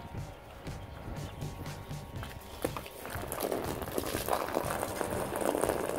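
Water gushes from a garden hose fed by a running pressure pump on a home well, a steady rushing splash that swells louder after a few seconds over a faint low hum.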